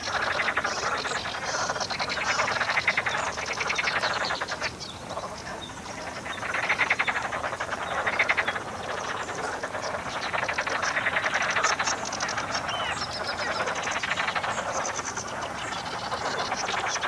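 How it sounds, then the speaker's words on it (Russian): Frogs croak continuously at a warm pond during a fishing outing, a dense steady chorus of overlapping calls with no talk over it. "лягушки решили спеть свой фирменный рингтон"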